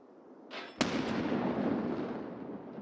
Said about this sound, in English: that nade's nowhere near us